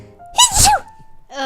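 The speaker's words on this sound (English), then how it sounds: "Sneeze for success" A single loud, close sneeze bursts out after a brief breath, then fades, with a short voiced sound following at the end.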